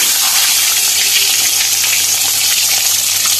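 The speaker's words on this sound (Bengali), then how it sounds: "এবার ডিম আর সেদ্ধ করা আলুগুলোকে ভেজে নেব" Eggs and boiled potatoes fry in hot mustard oil in a kadai, a steady, dense sizzle that holds at an even level without a break.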